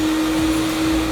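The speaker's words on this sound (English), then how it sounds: "this time we're going to be running both of the vacuum motors." A carpet cleaning machine's vacuum motors drone loudly and steadily with a constant whine, close by and unbroken.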